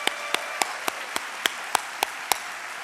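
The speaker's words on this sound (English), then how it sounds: "Give them a round of applause." Sparse, isolated claps ring out at a university convocation, roughly nine sharp individual hand claps spaced evenly over a few seconds against a quiet, hushed room rather than full crowd applause.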